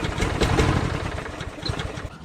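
A Briggs & Stratton Quantum lawn mower engine that had trouble starting runs loud and close with a rough, rapid chugging, steady across the whole stretch with no voices.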